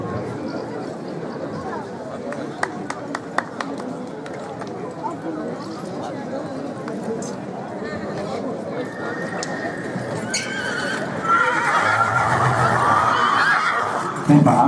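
Cold-blooded draft stallions of the Czech-Moravian breed parade at a horse show in Tlumačov, with repeated neighs and clopping hooves over a continuous crowd murmur and a louder commentator voice near the end.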